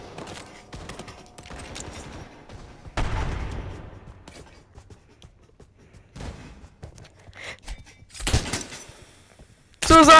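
Bursts of World War 2 gunfire in the Pavlov shooter game: a loud volley near the start, another around the middle and a sharp burst at the end, with quieter clatter between.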